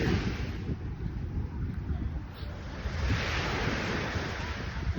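Ocean waves wash and roll onto Jumeirah Beach in a continuous rushing surge, mixed with wind buffeting the microphone, no clear voices.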